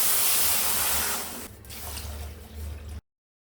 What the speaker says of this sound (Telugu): ఇప్పుడు దీనిలో ఇదే కప్పుతో 2 కప్స్ వాటర్ వేయాలి.